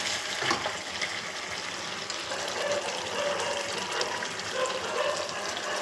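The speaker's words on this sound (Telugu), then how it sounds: "ఉడకాలి కదండి, అందుకు 2 గ్లాసెస్ వాటర్ పోయండి" Water poured from a glass into a pan of frying chicken curry, a steady splashing, gushing stream lasting several seconds at close range, with no talk.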